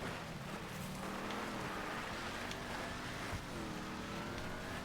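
An Imponte Ruiner 2000 on off-road tires in GTA V drives over dirt, its engine droning steadily with shifting pitch, faint and continuous with no talk.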